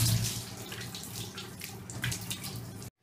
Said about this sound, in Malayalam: ഇനി അണ്ടർ ബോഡിയുടെ വെള്ളം നന്നായി ഒഴിച്ചു കൊടുക്കണം.